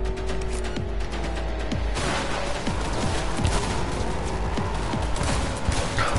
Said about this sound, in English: the shooting in this game fucking blows